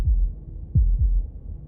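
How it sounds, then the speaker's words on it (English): Deep thudding heartbeat from the video game Slay the Princess, a single thump followed by a lub-dub pair, loud and close against a faint low drone. "That was the sound of a heartbeat"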